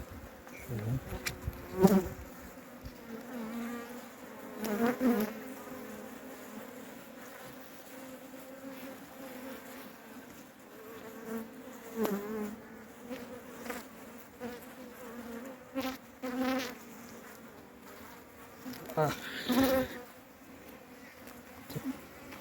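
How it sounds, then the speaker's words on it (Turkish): Steady buzzing of many honey bees at an open hive, a dense low drone close by, with individual bees swelling louder now and then as they pass near. "Arılar biraz sert olabilir."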